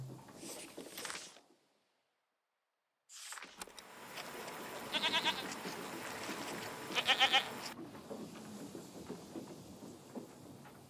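Goats bred in large numbers bleat in the game Season: A Letter to the Future. Several faint bleats come over a steady outdoor ambience after a short silence.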